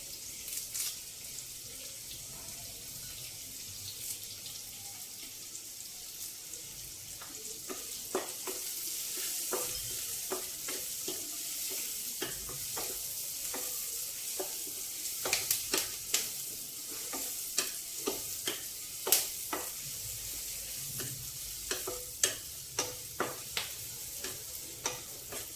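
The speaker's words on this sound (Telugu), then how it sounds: "ఉల్లిపాయ కొంచెం వేగాలండి." Onion, green chilies, ginger, garlic and curry leaves frying in a pan, a soft steady sizzle broken by frequent sharp scrapes and taps of a spoon stirring, growing busier toward the end.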